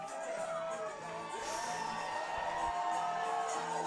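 Wrestling crowd on its feet cheering and whooping for a retiring wrestler's final match, a dense continuous roar with shouts rising through it, steady and loud throughout.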